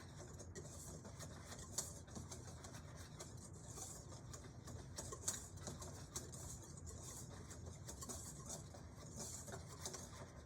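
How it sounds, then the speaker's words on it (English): A whisk stirs flour and salt together in a bowl, making a steady, soft, brushing rhythm of quick repeated strokes with faint clinks against the sides, quiet throughout. "Just going to use a whisk and whisk that together"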